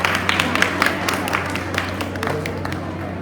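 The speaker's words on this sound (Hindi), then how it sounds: "जोरदार तालियां इन सभी के लिए।" Applause from a school audience at a Teachers Day celebration and felicitation at a Kendriya Vidyalaya, steady scattered clapping from a crowd filling the hall at moderate loudness, fading slightly toward the end.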